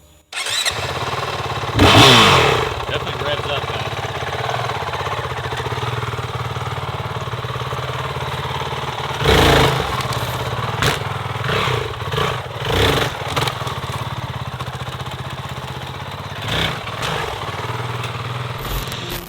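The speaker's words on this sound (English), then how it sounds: "it is time for the first ride on my 19 CRF450L, my supposed dream bike" A 2019 Honda CRF450L dirt bike on its first ride, the engine droning steadily throughout with repeated throttle blips and revving surges, a loud burst near the start and several sharp rises later, close and without talk.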